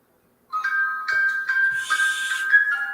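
A phone ringtone plays a bright, repeating electronic melody, close and loud, starting abruptly and continuing for a few seconds with no talking over it.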